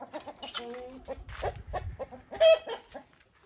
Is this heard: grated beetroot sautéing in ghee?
no